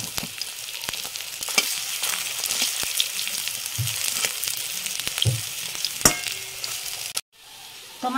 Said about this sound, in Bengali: তো আমার বড়াগুলো ভাজা হয়ে গেছে